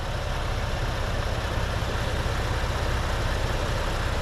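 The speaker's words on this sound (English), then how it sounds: "an EcoBoost engine" A 2019 Ford Expedition's EcoBoost engine runs steadily at idle, a constant low rumble with a dense even hiss and no talk.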